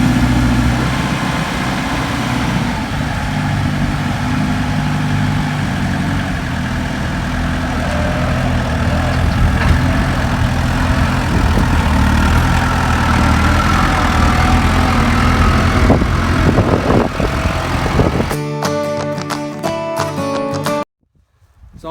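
A farm tractor pulling a nurse tank of nitrogen during corn planting runs with a steady, loud, low engine drone, then cuts off abruptly near the end with a few brief tonal sounds.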